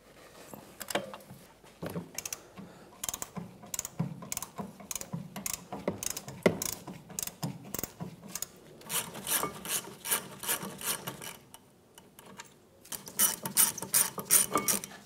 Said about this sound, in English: So with a 14 millimeter socket and a breaker bar, we'll remove those now.